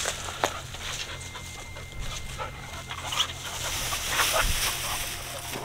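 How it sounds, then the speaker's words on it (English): Dogs at an old-school junkyard full of classic cars, panting steadily and close by, with a few faint whimpers over a hum of outdoor background noise. "Dogs are just hanging out with me."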